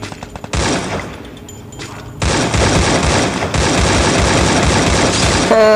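Loud rapid automatic gunfire in the battle royale video game Free Fire, dense continuous bursts of shots with brief pauses between volleys, filling the whole clip.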